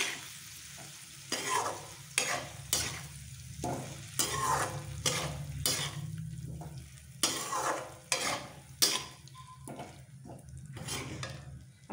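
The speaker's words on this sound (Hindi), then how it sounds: "अब सभी को हम इसे अच्छी तरह से भून लेंगे।" Shelled peas and other ingredients stir-fried in a pan for Bengali khichdi: a steady sizzle under repeated, loud spatula scrapes and clanks against the pan, coming in bursts of roughly one second, without any speech.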